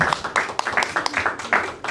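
Audience at an open mic night in a brewhouse gallery clapping for a performer. A small group of scattered hands claps at close range, uneven and tapering.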